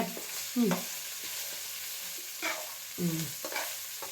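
Spices and chili powder fry over low heat for a Mangalorean mutton sambar, with a soft steady sizzle under scraping stirring strokes and a few brief voice-like sounds, close by.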